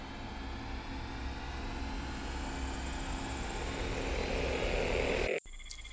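A Freewing twin 64mm EDF RC A-10 jet flies at low throttle, a steady, fairly loud rushing whoosh that holds for about five seconds before cutting off abruptly near the end.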